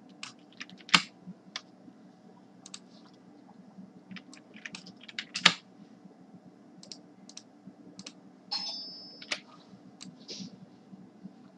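Someone types on a computer keyboard, sending out scattered bursts of crisp, close key clicks in uneven runs, with a few louder taps and a brief slide of sound near the end, against a quiet room with no talking.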